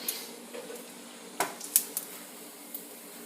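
Hot cooked bacon is set down on a cutting board in a home kitchen, giving a few soft, brief taps and clicks against a quiet room hum.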